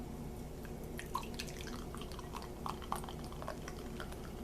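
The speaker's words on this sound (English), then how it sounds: "So I'm going to pour myself a little drink of this stuff for your viewing pleasure." Soda poured into a glass tumbler fizzes softly, a faint, steady crackle of tiny bubbles with a few scattered drips and pops, close and quiet.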